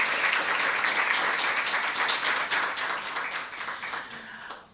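Audience applause for the sponsors at a college debating competition, a dense crowd of clapping hands sustained for several seconds before fading out, with a brief spoken word near the end.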